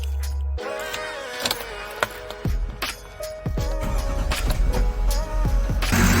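A 2014 Chevy Express 3500 van with a 6.6L diesel engine cranks and starts up after a belt change, a brief starter whir and then a steady, rumbling idle that grows louder toward the end, with a few clicks and clunks along the way.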